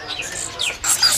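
Caged songbirds at a bird-market kiosk in Pramuka, where cucak ijo are sold, giving a few quick high chirps and a rising whistled note, fairly close and clear against a soft background hum.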